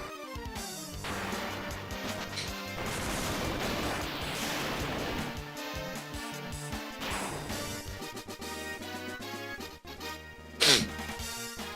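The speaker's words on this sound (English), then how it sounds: "And a sneeze." One abrupt sneeze near the end, brief and close, bursting over continuous retro video game music from Final Fantasy 1.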